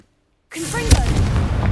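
A Confringo blasting spell going off in Hogwarts Legacy: a sudden booming burst after brief silence, followed by a sustained rumbling, crackling blast with whooshing tones.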